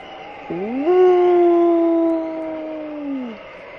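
A voice imitates howling wind: a single long, rising then sustained 'oooo' tone that slowly fades out, loud and close.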